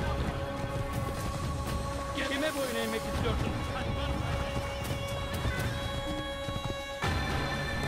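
Steady clip-clop of horse hooves in Assassin's Creed, a continuous trotting rhythm under sustained tonal music and faint background noise.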